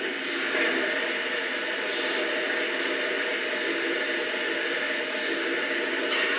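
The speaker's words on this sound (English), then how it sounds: "the little drop of water is how you play, clearly, is how you play the water fueling sequence." Water fueling effect from a Lionel model steam engine: a steady, continuous hiss of running water that holds evenly throughout without a break.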